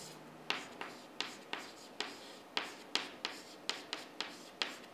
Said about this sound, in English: Let me go with writing.